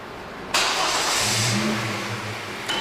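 A car engine catches with a sudden loud burst and then runs steadily at a low, rough hum, close by, during an MOT test.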